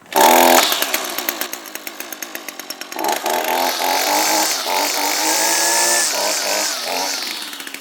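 An Echo SRM225 string trimmer's small two-stroke engine fires, sputters in uneven bursts for a few seconds, then settles into a steady loud high-pitched buzz close by, with no talking.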